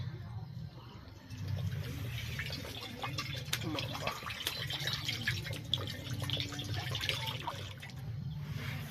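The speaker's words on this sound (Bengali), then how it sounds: "কড়াইতে দিয়ে দিচ্ছি জল।" Water poured into a kadai over an outdoor wood-fired stove in a Sundarbans village, a continuous close splashing and trickling that starts after a quiet second and runs steadily with faint dripping.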